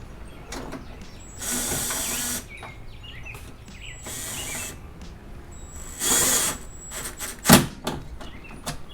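Hood strut bolt being snugged by hand on a Honda CR-Z, giving a few brief ratcheting clicks and rattly metal bursts spread through otherwise quiet work sounds, close and moderately loud.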